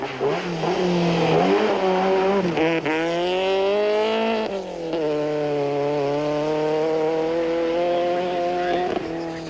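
Volkswagen rally cars from a 1994 forest-stage rally, including a Golf, rev loudly and continuously. The engine pitch climbs and falls through gear changes, and no voices are heard.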